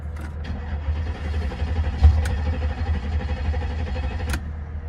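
A 2002 Mercedes S500 engine cranking steadily without catching despite starting fluid, a continuous low rumbling churn with a brief louder bump midway, recorded close by.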